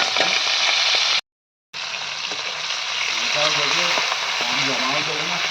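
Prawns frying in hot oil in a home kitchen pan, a steady bright sizzle throughout with a brief dropout, close and continuous, with faint clinks of stirring.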